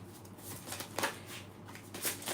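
A deck of tarot cards being shuffled by hand, a few quick close riffling bursts of papery flutter with short pauses between them.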